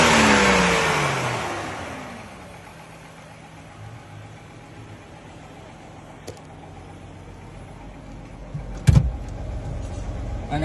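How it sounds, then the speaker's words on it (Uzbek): A GAZ engine in a Gazelle tow truck runs at a steady idle, starting loud with a revving surge that settles into an even hum, with a brief clunk near the end. "Motor ishlashlar juda tekis ishlayapti"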